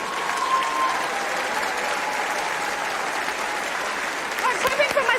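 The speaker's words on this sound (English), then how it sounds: "I'm clapping for myself." Studio audience applause and clapping at a televised singing competition show, a steady dense wash of many hands throughout, with a brief burst of louder claps and faint voices near the end.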